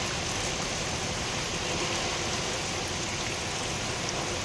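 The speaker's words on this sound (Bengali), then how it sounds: "আজকে সকালেও বৃষ্টি হচ্ছে" Heavy rain pours steadily in the Sundarbans during Cyclone Remal, a dense, constant roar of drops hitting the ground and surfaces, with no voices over it.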